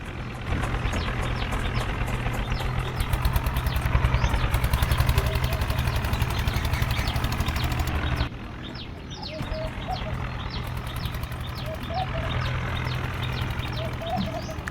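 A steady old tractor engine drone runs throughout, close and fairly loud, while towing a water tanker through mud, dropping slightly in level partway through with faint birdsong above.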